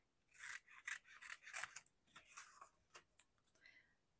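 Scissors snip through paper in a series of quiet, crisp cuts, about a dozen short irregular strokes close to the microphone, faint overall.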